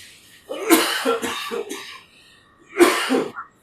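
Several harsh coughs close up: a cluster of three or four rough bursts, a pause, then one or two more coughs, with a quiet background.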